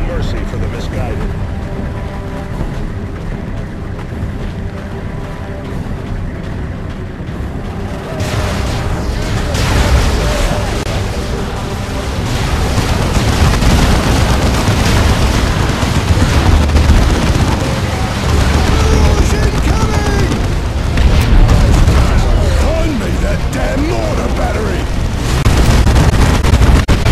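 Artillery rumbles and explodes in the Warhammer strategy game Dawn of War 2: Chaos Rising, dense heavy booms and blasts building into a continuous loud barrage, with a voice speaking over the battle.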